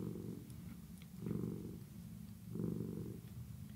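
A cat purrs softly and close by, the low rumble swelling in regular breaths, about three cycles, quiet and alone.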